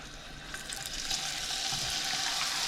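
Steak sizzles and crackles steadily in a hot pan, a bright hissing that grows slightly louder, with no talking.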